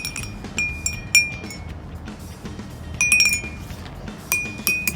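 Water-filled drinking glasses holding different amounts of water, used as a homemade glass xylophone, struck one at a time in a loose rhythm, giving bright ringing clinks with sustained tones of varying pitch over faint background noise.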